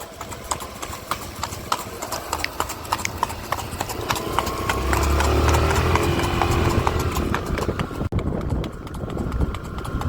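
Horse hooves clip-clop in a quick, steady rhythm on a hard surface, close by, with a low rumble swelling in the middle.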